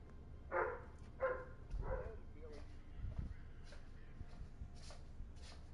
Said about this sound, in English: As you could probably tell from all the barking